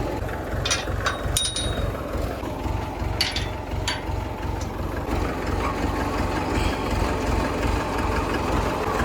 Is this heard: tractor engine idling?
yes